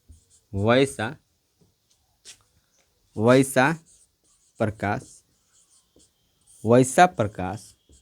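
Marker or chalk scratches on a classroom board during a Class 10 physics lesson, heard in short bursts between a teacher's spoken phrases.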